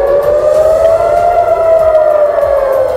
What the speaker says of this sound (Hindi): गाजा से लगे इजरायल के इलाकों में चेतावनी के सायरन बजने लगे